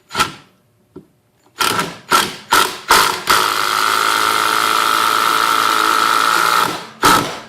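A Ryobi One Plus 18-volt impact driver fires several short bursts, then hammers continuously for about four seconds as a thick screw drives in, followed by one final burst.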